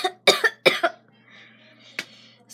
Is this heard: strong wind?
no